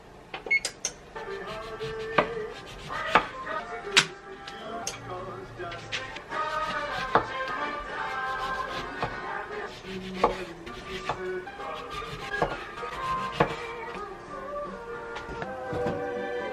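A knife slices oranges on a cutting board for oven drying as Christmas decoration, making a series of crisp, irregular chops and taps up close.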